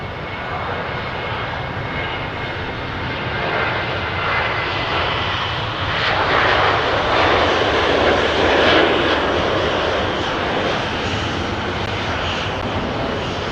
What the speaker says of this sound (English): There's a departure that we were missing.